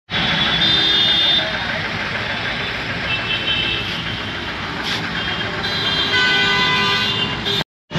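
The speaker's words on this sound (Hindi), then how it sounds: "देखो अभी कितना ट्रैफिक आ रही है।" Heavy road traffic in Dehradun, India, with a dense roar of engines and repeated car and truck horns honking close by, loud and continuous, with brief cuts near the end.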